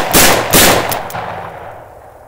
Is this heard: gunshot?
yes